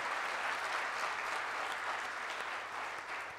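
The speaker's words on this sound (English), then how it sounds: "Can we just please have a round of applause for her?" An audience applauds steadily, a dense wash of clapping that holds for a few seconds before tapering slightly at the end.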